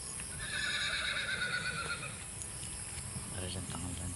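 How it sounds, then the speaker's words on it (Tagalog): A horse gives a loud, drawn-out whinny, followed by softer snorting and movement sounds, with faint voices in the background. "Nawag ng kabayo guys."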